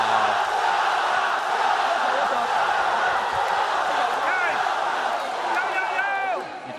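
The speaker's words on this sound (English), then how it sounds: "that was the crowd cheering" A large arena crowd cheers and roars loudly and continuously at a League of Legends All-Stars match, a dense wall of voices with rising whoops and shouts toward the end.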